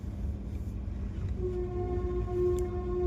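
Express train pulling into Ludhiana railway station at a platform, steady low rumble of the rolling train with a sustained horn tone entering midway and holding to the end, fairly loud and close, no talk.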